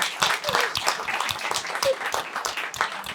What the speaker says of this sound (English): I'll give her a round of applause anyway.